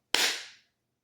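A single sharp hand clap before a home review recording, one crisp close snap that decays quickly into silence.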